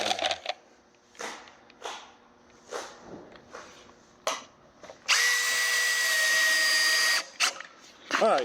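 A power drill drives screws into ribbed metal shed panels, with short bursts of motor whine and clanks of handling, then one sustained loud two-second run close by.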